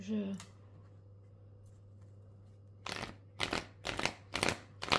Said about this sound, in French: Je vais tirer une carte là-dessus